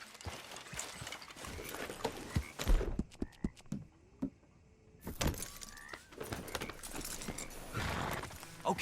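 Steady clip-clop of horse hooves with jingling tack in the video game Red Dead Redemption II, pausing briefly to a few isolated steps before the trotting resumes, moderately close.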